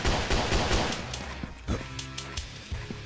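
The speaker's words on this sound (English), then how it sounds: "This pistol is so useless!" Rapid bursts of pistol fire in the Dino Hunt video game, several quick sharp cracks tumbling close together, followed by a few scattered single shots, loud and near, with a brief voice in the middle.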